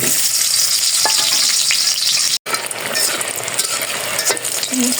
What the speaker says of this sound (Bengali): এখন তরকারি নামানোর আগে বেগুন ভাজিটা নামিয়ে নিই।